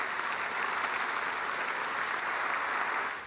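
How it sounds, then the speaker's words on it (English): A cricket crowd applauds steadily in tribute to batsman Philip Hughes, with sustained, dense clapping from a large audience that holds at an even, fairly loud level throughout. "63 seconds of applause to mark his final unbeaten score."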